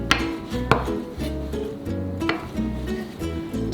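A kitchen knife cuts king oyster mushroom slices in half on a board, making several sharp, distinct chops at an uneven pace over a low background hum.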